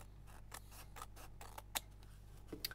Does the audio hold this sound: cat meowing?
no